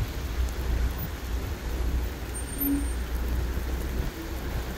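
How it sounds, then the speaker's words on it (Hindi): Dense, steady heavy rainfall in Medina drums continuously on a nearby surface, with a low rumbling undertone throughout and no voices. "बहुत ज़्यादा बारिश आ चुकी है"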